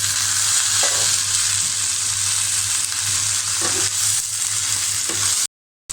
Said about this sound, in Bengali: কুমড়ো কড়ি পেঁয়াজ আর রসুন আমি ভালো করে ভেজে নিয়েছি এখন আমি লাউ দিয়ে দিলাম